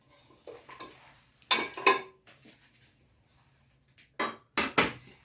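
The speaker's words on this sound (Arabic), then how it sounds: "غادي ناخذوا الكوكوت ديالنا" A pressure cooker pot handled in a kitchen while preparing Marrakech tanjia: a few sharp metallic clanks and knocks in two separate bursts, close and fairly loud, with quieter handling scrapes between them.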